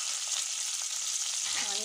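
Cumin, curry leaves and green chillies sizzle steadily in a small amount of hot oil in a pan, a continuous bright hiss with no talking.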